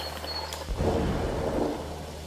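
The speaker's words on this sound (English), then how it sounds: "I don't like the sound of that thunder though" Deep rolling thunder in The Hunter: Call of the Wild, heard during a goose hunt in Salzwiesen Park. A low rumble starts suddenly partway through and swells loud and broad, then lingers as a sustained roar over steady ambient hiss.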